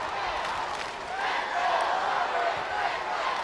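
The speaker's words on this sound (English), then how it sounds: "When you hear the crowd coming alive" A basketball crowd at a state high school championship final swells into cheering during free throws, a dense sustained roar that builds slightly midway, with a voice talking over it.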